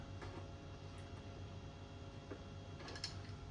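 Bolt being screwed in by hand on a first- or second-generation Kawasaki ZX12R motorcycle, faint clicking and ratcheting metal mechanism sounds at close range, quiet and steady with a few sharper ticks.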